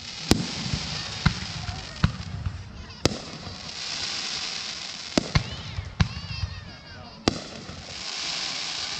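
Fourth of July fireworks burst in a string of sharp, loud bangs spaced a second or two apart, with crackling trails and a distant hiss between blasts.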